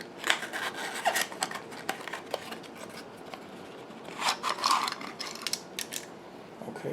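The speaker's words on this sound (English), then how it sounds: "Okay, so let's open the box." Close, quiet handling of a pepper spray product box: scattered clicks, scrapes and rustles of cardboard and plastic in uneven bursts, with no talking.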